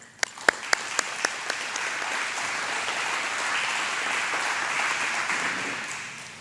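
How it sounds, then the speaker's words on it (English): Applause from a 4-H award banquet audience in Gillespie County honoring award winners, a few sharp early claps swelling into steady, sustained clapping that fills the hall and holds to the end. "Let's give another round of applause for all our award honorees."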